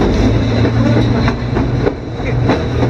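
A White Pass Railway train rumbles steadily along the rails, with a low continuous roar and faint rhythmic clacks from the wheels, loud and close throughout.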